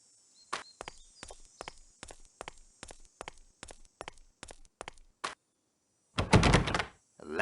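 A door being checked and latched, heard as a steady series of about a dozen sharp, evenly spaced knocks or clicks. A short pause follows, then a louder, fuller burst of rattling clatter near the end.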